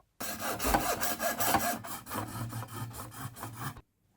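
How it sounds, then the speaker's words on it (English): A coping saw cuts through a copper circuit board with fast, even back-and-forth rasping strokes, close and loud, continuing steadily for several seconds before stopping abruptly, no voices. "we start cutting the board using a coping saw"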